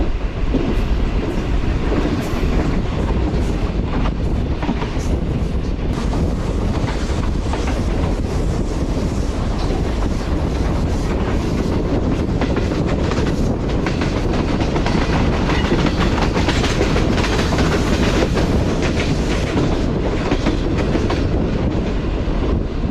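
A Green Line Express train rolls steadily along the rails in Pakistan with a loud, continuous rumble, rhythmic clatter and a rushing wind noise throughout.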